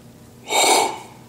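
Air blown by mouth into an upturned ceramic teapot during glazing to push out excess glaze: a single soft, breathy whoosh lasting about half a second, close and fairly loud, with no talking.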